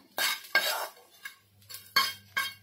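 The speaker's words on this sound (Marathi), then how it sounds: "मी तूप टाकून पुन्हा हा बाकीचा पण डिंक भाजून घेते." Edible gum roasting in ghee in a pan is turned with a metal spatula, giving a handful of sharp, close scraping strokes against the pan separated by short quiet gaps, with little audible sizzle.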